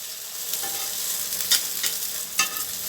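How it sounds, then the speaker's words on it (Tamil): An omelette containing coconut sizzles on a dosa griddle after being flipped, a steady close hiss with a couple of brief louder spits, no voices. "நான் இன்றைக்கி தோசைக்கல்லில் தான் ஊற்றிருக்கேன் இப்போ நம்மளுக்கு கொஞ்சம் நேரம் வெந்துருச்சு நம்ம திருப்பி போட்டுக்கலாம்"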